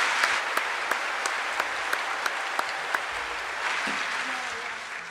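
Warm crowd applause greeting a guest singer at a live gig: a broad wash of many hands clapping steadily, with a few louder, crisper claps standing out in a regular pulse near the front, no talking over it.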